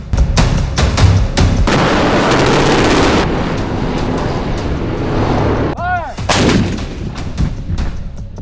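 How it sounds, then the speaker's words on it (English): A KDF howitzer fires shells in repeated loud, sharp booms with rolling rumble between them, a dense heavy blast sequence and a brief whistling tone near the end. "a versatile indirect fire artillery weapon with a short barrel firing shells at high trajectories to strike targets behind cover"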